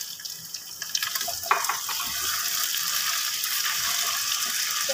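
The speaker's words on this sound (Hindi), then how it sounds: "अब हमने आलू कट किए हुए थे वो सारे ऐड कर देंगे" Cut potatoes tip into a pan of hot oil for garlic-cumin aloo, a steady broad sizzle and frying hiss filling the whole stretch, with a brief clatter near the start as the pieces land and get stirred.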